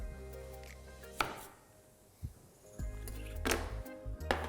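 Onion being chopped on a cutting board while preparing a chicken curry gravy, a few sharp, separate knife strikes spaced irregularly against a quiet kitchen background, close and fairly loud.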